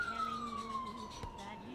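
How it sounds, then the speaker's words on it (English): A siren wails faintly in the distance outside, its tone sliding slowly downward over a low city rumble, with a brief thump partway through. "It's like always sirens all the time."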